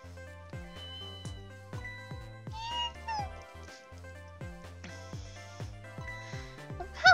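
A cat meows several times in the Ghost Trick video game, with clear, close calls rising over a rhythmic plucked music track.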